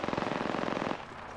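Automatic gunfire rattles in rapid bursts in the Apex Legends video game, loud for about a second and then stopping, with no talk over it.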